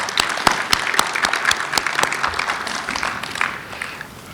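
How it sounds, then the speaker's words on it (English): An audience at an LGBTQ and aging symposium gives brief, lively applause to honoured gentlemen, crisp claps packed tightly and fading away over a few seconds. "Let's all give applause to these gentlemen."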